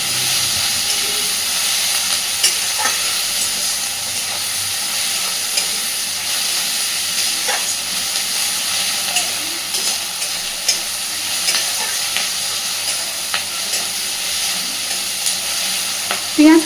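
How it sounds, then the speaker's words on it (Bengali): Onion, green chilli and tomato fry in a pan, a loud, steady sizzle and hiss with occasional stirring scrapes, continuous and close throughout. "পেঁয়াজ, কাঁচা লঙ্কা, টমেটো এই ভাজাটা যতটা একটুখানি মোটামুটি একেবারে লালচে করে নয়, কিন্তু বেশ খানিকটা একটু ভেজে নিতে হবে আগে।"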